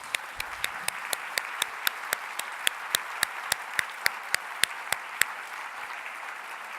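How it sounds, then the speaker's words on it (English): Audience applause at a live Walrus Talks stage event on disruption in Toronto, a steady wash of clapping with regular sharper claps standing out, moderately loud and carrying on without talk. "Yes, you can clap for them again."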